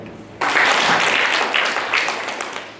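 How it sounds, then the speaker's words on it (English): An audience at a staff closing ceremony breaks into sudden applause for a reverend, a full, dense wash of clapping that starts abruptly and gradually fades. "So let's clap."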